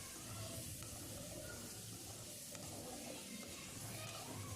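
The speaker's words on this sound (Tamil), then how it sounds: "இப்போ ரெண்டுத்தையும் போட்டு நல்லா வதக்கிக்கோங்க" Potatoes cut with their skins on and small onions sauté in a pan for onion potato sambar, giving a steady, close sizzle with scraping stir noises that run unbroken throughout.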